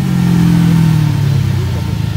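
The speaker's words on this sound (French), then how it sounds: "Là un V12 Ferrari 456, Ferrari 456 si je ne me trompe pas." Ferrari 456 V12 engine revving nearby, a loud deep roar with a pitch that rises and then falls away, ending in a rougher, lower burble.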